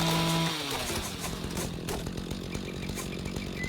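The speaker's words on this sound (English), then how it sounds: "This chainsaw's loud." A chainsaw in the Rising World video game cuts down trees, a loud continuous buzzing engine drone that shifts pitch after an initial rev and then holds steady throughout.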